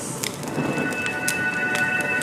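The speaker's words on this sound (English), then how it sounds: "When will this rain ever stop?" Rain falls steadily in the video game Honkai: Star Rail, a soft constant hiss broken by scattered crackling drops and a faint distant rumble of thunder, with no voices.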